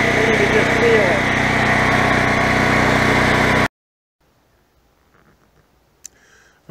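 A generator engine runs inside a generator house, a steady loud droning hum for several seconds that cuts off abruptly, leaving near silence with a faint click.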